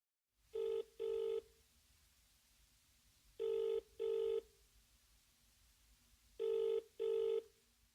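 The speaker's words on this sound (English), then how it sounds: "He is phoning her for directions." A telephone rings in three paired double bursts, British-style, steady and clear, with short pauses between each pair and no talking over it.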